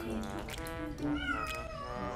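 A cat being bathed yowls and meows in drawn-out, wavering cries over splashing and background noise.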